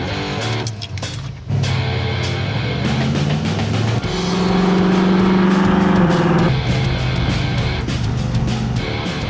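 Engine of a 1979 Pontiac Trans Am driving, a loud steady low drone with a rising rev and gear changes in the middle, heard close from inside the car.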